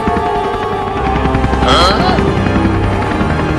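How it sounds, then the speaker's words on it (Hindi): Helicopter lifting upward in a comedy sketch, a loud continuous rotor hum and buzz filling the whole clip, with a brief swooping tone partway through. "अब हेलीकॉप्टर को ऊपर करो और डॉक्टर के पास चलो।"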